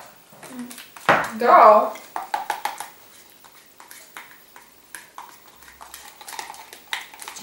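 A spoon stirs a slime mixture with white coloring and glitter, giving a burst of clinking and scraping against the bowl, then softer intermittent taps, while a person speaks briefly.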